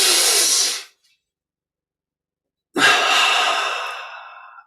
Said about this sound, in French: on prend une double inspire par les narines. Poumon plein, on contracte tous les muscles du corps en serrant les poings. Double expire par la bouche